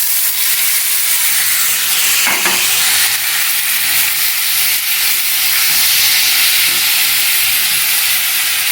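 Onion stalks sizzle and hiss steadily as they fry and are stirred in a pan, a loud continuous crackle with occasional scraping from the stirring and no talking.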